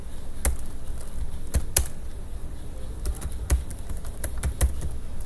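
Computer keyboard keys clatter as a full name is typed into a web form, a few sharp close clicks spaced unevenly over a quiet room background.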